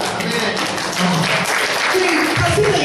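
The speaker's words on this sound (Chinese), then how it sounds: "拍手给上帝。" A church congregation applauds during a sermon, a dense patter of clapping mixed with voices that carries on throughout.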